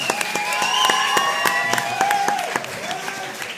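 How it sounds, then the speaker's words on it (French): An audience at a live hypnotist show applauds hypnotist Alex, with steady clapping and distinct individual claps throughout, some cheering mixed in, and sustained tonal whistles or musical notes gliding over the crowd. "on peut déjà applaudir Alex"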